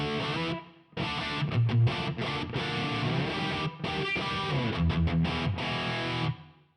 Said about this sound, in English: this is what that row sounds like without going through the delays and reverb